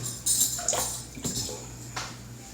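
A tablespoon of water is poured in during home cooking, a short splashing trickle with clinks of a utensil against a bowl, close and moderately loud in a kitchen.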